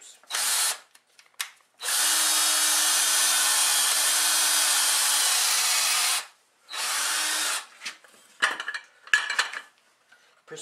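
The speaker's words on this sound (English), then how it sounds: "getting a long quarter inch drill bit, a really long one, and I usually do this in the vise" A long quarter-inch drill bit bores into a workpiece held in a vise, a loud sustained whine lasting about four seconds, preceded by a short burst and followed by another brief run and scattered clatter.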